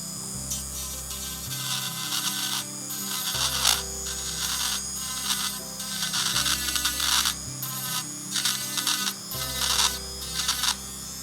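AIRSEE electric nail drill filing a tapered side on a nail, a high whirring grind that starts and stops in repeated bursts over a steady low motor hum, close and fairly quiet with no talking.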